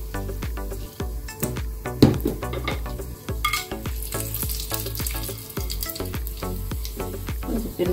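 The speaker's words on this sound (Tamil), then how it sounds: "கொஞ்சம் பெருங்காயம் போட்டு தாளிச்சுக்கலாம்" Spices temper in hot oil with chana dal and dried red chillies for a simple Tamil lunch, a loud continuous crackling sizzle with dense rapid pops and occasional stirring clinks, no talk.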